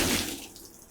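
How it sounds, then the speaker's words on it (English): A water balloon bursts and water splashes out in a brief, close wet gush that starts loud and fades quickly into a thin trickle within about a second. "See what happens when I remove the surface tension of this water balloon."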